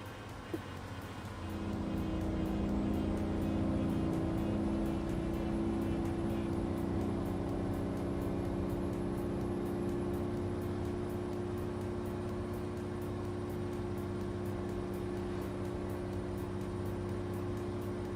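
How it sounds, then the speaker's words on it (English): Truck engine in Euro Truck Simulator 2 running steadily with a low droning hum and layered harmonics, starting quietly then holding a constant level throughout, with no talk. "Makes a bit of noise this engine, but it doesn't go very far."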